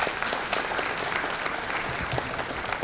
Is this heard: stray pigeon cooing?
no